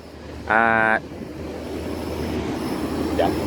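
A short horn blast sounds, followed by the growing rumble of a train passing outside, steady and moderately loud.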